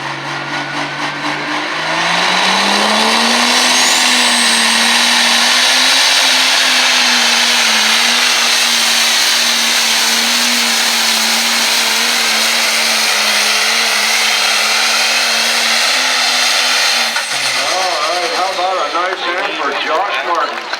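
A lightweight component pulling tractor with a tube chassis, truck rear end and Profab transmission roars loudly at the Grange Fair tractor pull, its engine climbing in pitch, holding a sustained howl, then dropping off near the end.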